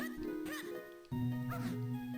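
A dog yips and barks in short, chirpy digital bursts in The Legend of Zelda: The Minish Cap, set over looping game music and sound effects.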